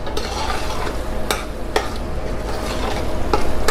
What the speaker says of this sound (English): mix it well, just for 5 minutes on low heat.